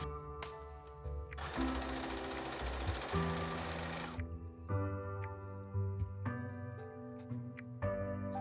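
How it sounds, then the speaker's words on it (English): Sewing machine top-stitching boning onto a dress lining along a side seam, a steady close whirring burst of fast stitching for a few seconds, then slower intermittent stitches with pauses between runs. "now I'm just going to top stitch this boning onto the lining piece down the side seam."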